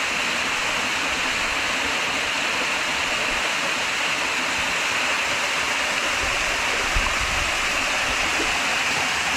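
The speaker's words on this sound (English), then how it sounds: "It's all volcanic water coming down." Ice-cold volcanic mountain spring water rushes down at a hot-spring site in San Vicente, Colombia, a loud, steady, unbroken roar of falling water with no voices.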